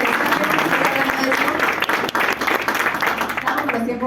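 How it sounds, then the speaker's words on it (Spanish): A seminar audience breaks into loud, dense applause that runs on without a break. Some voices mix in with the clapping, and the sound is close and full. "Creo que un aplauso fuerte."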